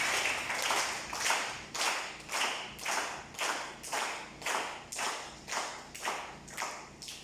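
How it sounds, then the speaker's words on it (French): A church congregation claps in a steady rhythmic beat, about two claps per second, each a sharp burst fading quickly, moderately distant with no voices over it. "Applaudissez cet esprit de Dieu de la vie comme Dieu dit ça."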